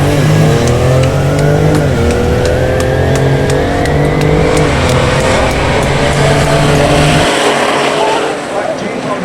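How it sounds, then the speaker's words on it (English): A Jeep and a Ford Explorer drag race at an SCDRA drag strip: loud, steady engine roar with rising gear-change pitch under a commentator's voice, easing slightly near the end. "SUV time, Jeep versus Ford Explorer."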